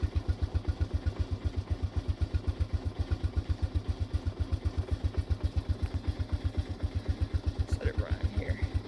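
A 1987 Honda TRX125 ATV engine idles steadily just after a cold start, a close, even low putter with rapid regular firing pulses throughout and a brief faint higher noise near the end.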